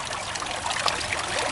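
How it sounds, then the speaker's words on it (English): A tiny waterfall trickles steadily over soggy clay and rocks, close by and continuous, with no one speaking. "a tiny little waterfall."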